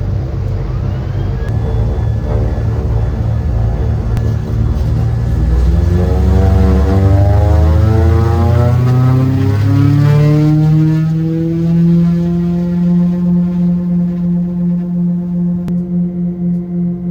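A small propeller mail plane flying from Beaver Island to Charlevoix drones loudly from inside the cabin, its engine pitch rising and settling into a steady throbbing hum with strong beating harmonics.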